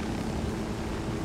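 A helicopter in the video game Ghost Recon Wildlands gives off a dense, steady rotor and engine roar, loud and close throughout the short stretch, with no speech.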